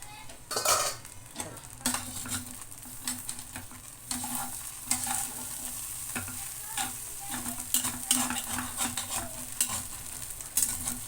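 Stuffed brinjal frying in a pan is stirred with a utensil, producing a close, steady sizzle broken by frequent scraping strokes and metallic clinks against the pan, with no talking.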